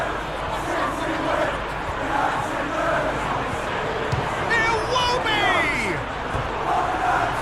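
Football crowd in PES 21 during a simulated Manchester City vs Fulham Premier League match, a steady broad roar of stadium noise with swelling cheers and whoops, and a commentator's voice intermittently over it.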